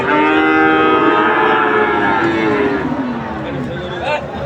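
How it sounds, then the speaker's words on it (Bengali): Cattle moo loudly at a busy calf and cattle market in Raniganj, Dinajpur, one long drawn-out low call up close, with crowd chatter and voices mixed in behind. "চারিদিকে শুধু গরু আর গরু।"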